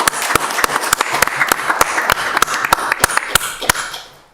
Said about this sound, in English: Let's all give Detective Stein a round of applause.